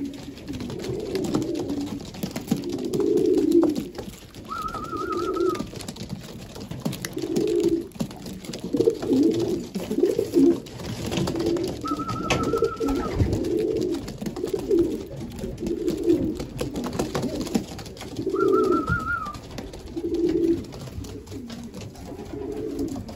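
Racing pigeons coo in a loft, soft repeated throaty calls in steady rhythm close by, with a few higher bird chirps at intervals over the constant low cooing.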